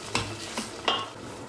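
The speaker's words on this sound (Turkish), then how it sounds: "Şimdi ardından tarhanayı ilave ediyorum." Tarhana is stirred into a hot pan with a utensil, making three soft scraping strokes over a faint sizzle, close and quiet.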